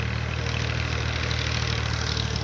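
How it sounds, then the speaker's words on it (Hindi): A tractor engine runs beside soft, eroded riverbank soil while it hauls away large felled trees. A steady, fairly loud idling rumble with an even low-pitched throb holds throughout, and no one speaks. "ये जो ट्रैक्टर आ रहा है"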